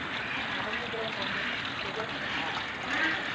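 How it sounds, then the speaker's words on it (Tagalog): Continuous flowing water inside a duck farm house, a steady trickling rush heard close, with a person talking over it. "Continuous ang flowing ng tubig."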